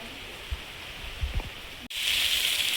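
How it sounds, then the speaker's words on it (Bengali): Rain falls steadily as a soft broadband hiss with a few faint low thumps, then swells suddenly into a louder, denser downpour. "সারা দিনটা বৃষ্টি হচ্ছে।"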